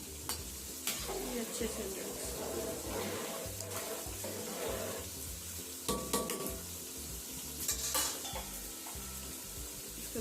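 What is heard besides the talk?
rice being stirred into sizzling biryani masala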